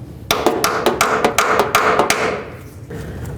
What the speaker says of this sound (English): or even a little punch with a hammer